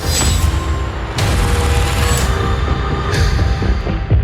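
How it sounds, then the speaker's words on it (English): An explosion aboard a train in a TV drama scene: a loud, sustained blast of crackling booms and rapid bursts that flares again midway and near the end, with no speech. "There was an explosion."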